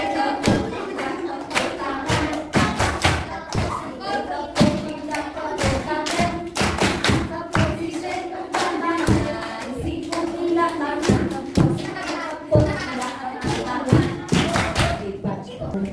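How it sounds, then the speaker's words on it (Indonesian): An audience at an Islamic Isra' Mi'raj commemoration claps hands in a loud, uneven series of sharp claps, with crowd voices and shouts mixed in. "Tepuk tangan."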